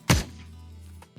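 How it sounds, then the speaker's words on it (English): A single sharp game-audio gunshot of a Core 47 heard in isolation, with a punchy low thud, followed by a lingering low rumble that fades out over about a second. "This is what the gunshot sounds like."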